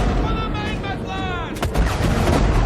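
Cannon fire booms out in a fantasy battle as gateways open onto an enemy army, a sharp blast arriving after tonal music, followed by rumbling battle noise.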